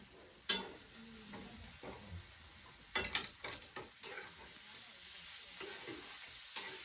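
Masala is frying and being stirred in a pan for a dry bitter gourd (karela) dish. A soft, steady sizzle runs throughout, broken by clinks and scrapes of the spoon against the pan, with no voices.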